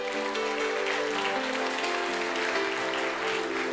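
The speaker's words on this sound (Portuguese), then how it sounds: "Você pode aplaudir ao Senhor?" Church congregation applauding during a sermon, a dense continuous wash of clapping heard over sustained musical tones, fairly loud and even throughout.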